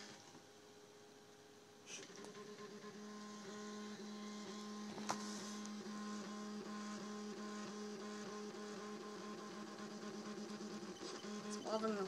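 Printrbot Simple 3D printer running its first calibration print, a quiet steady motor whine and hum with small mechanical ticks that step up in level after about two seconds and continue throughout.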